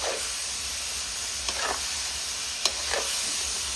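Snow peas stir-frying in a pan give a steady, close sizzle and hiss, broken by a few sharp scrapes and knocks of stirring. No one speaks.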